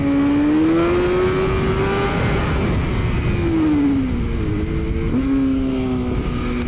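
A BMW S1000R motorcycle engine revs loudly and close, its pitch climbing and dipping through several throttle changes before settling.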